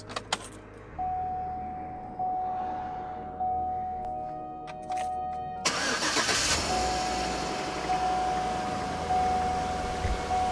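Keys jangle briefly, then a car engine cranks and catches, settling into a steady idle that continues to the end.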